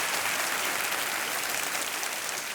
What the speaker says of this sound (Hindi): तालियों के साथ आज हम इनका स्वागत भी करते हैं